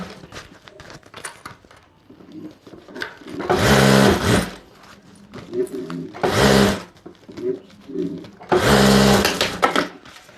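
Sewing machine stitching the lining of a handmade bag in three loud, close bursts of rapid whirring, separated by quieter handling sounds and someone speaking.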